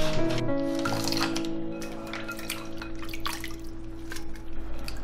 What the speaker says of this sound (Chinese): 把剩下的食材呢也全部洗一下。